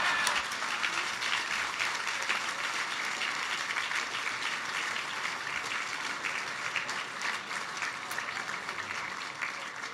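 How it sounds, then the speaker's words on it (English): Studio audience applauding at the close of a Conservative leadership debate, a sustained dense burst of clapping heard near and evenly loud for around ten seconds, tapering slightly near the end. "A big round of applause"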